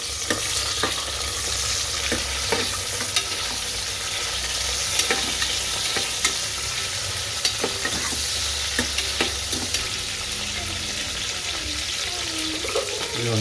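Long-sliced onion and mint leaves frying for mutton curry, a continuous loud sizzle with repeated scraping and clacking of a spoon stirring the pan, plus a low steady hum underneath.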